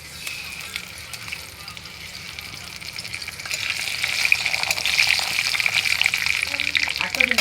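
Bay leaves frying in hot oil for a large chicken curry, a steady sizzle that swells louder and denser partway through and holds to the end, with a few faint clicks.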